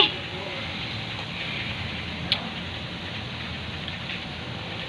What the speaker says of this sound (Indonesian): Dan sekarang juga lagi hujan.